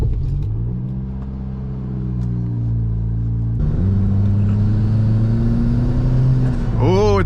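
A turbocharged Toyota Corolla pulls away on the road, its engine droning loud and close with a rising pitch through the gears, a brief gear change partway, and a voice breaking in right at the end.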